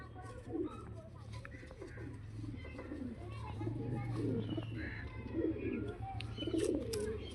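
Pigeons coo continuously in low, rolling tones at a pigeon sale, with occasional chirps and voices talking in the background throughout.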